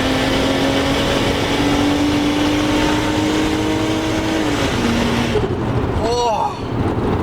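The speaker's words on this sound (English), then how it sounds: "Okay guys, so we have it in second gear and boost." A turbocharged 2JZ-engined car accelerates hard in second gear under about 0.7 bar of boost, its loud engine note rising steadily for several seconds before easing off, with a brief rising whine near the end.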